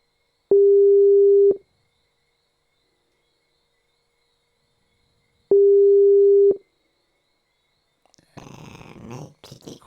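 A phone call ringing unanswered: two long, steady electronic tones about a second each, separated by a few seconds of silence, then people talking briefly afterward.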